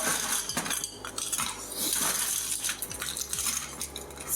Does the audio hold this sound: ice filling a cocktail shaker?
yes